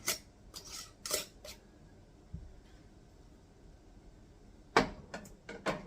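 A metal canning jar lid and ring are handled, giving a few sharp metallic clinks and scrapes in two short clusters, one at the start and one near the end, with quiet pauses between them.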